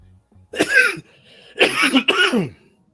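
A few harsh, throaty coughs close by, one short burst followed by a quick pair, with near silence in between.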